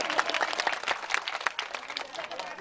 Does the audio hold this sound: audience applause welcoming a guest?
yes